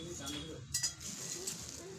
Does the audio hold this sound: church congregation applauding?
no